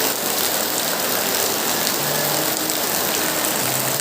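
Heavy rain pours steadily near a mud-walled house, a dense, constant hiss that stays loud and unbroken for the whole stretch, with no voices.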